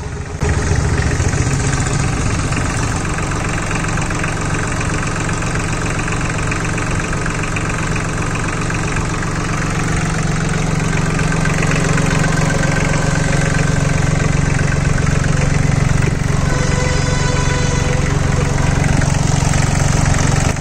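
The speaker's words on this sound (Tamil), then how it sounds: "இதில் வரக்கூடிய இன்ஜின் பார்த்தீங்கன்னா நல்லாவே ஸ்மூத்தாக இருக்குது." A Solis Yanmar 2516 27 hp 4WD mini tractor with a 3-cylinder engine idles smoothly and continuously nearby, a steady loud rumble with an even hum throughout and no speech.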